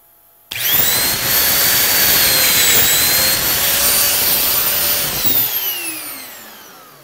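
A loud, high-pitched Mafell Duo dowel joiner whines steadily for several seconds as it cuts into wood, then spins down and fades.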